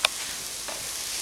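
Okra fries in a pan with a continuous hissing sizzle, opened by a brief clack of a utensil stirring against the pan, close and steady.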